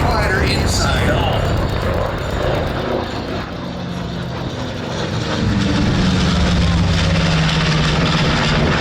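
A B-25 (PBJ) warbird's propeller engines roar at the Miramar air show, a loud, continuous broadband drone that swells stronger toward the end as the bomber comes around.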